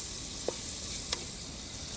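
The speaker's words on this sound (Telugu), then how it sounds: "బాగా వేయించుకోవాలి." Onion, tomato and green chillies fry in oil in a pan for a village-style spicy crab fry, sizzling steadily up close with a couple of brief stirring scrapes and no talk.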